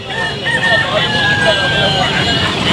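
A rooster crows amid a busy, noisy outdoor poultry market, with people talking and other hen and rooster sounds around it.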